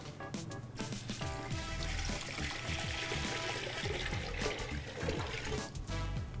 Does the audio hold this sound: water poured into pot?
yes